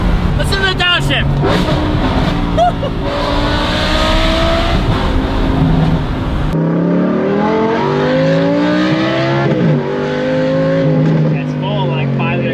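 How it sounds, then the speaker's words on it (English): A Lamborghini Huracan STO V10 with a Valvetronic Designs exhaust screams at high revs, then drops sharply on a downshift and climbs again in loud, nearby sweeps, with a person speaking over the engine. "Listen to the downshift."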